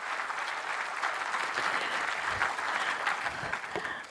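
An audience in a lecture hall gives a speaker a round of applause, a dense, steady patter of many hands clapping, continuous and fairly loud, without voices.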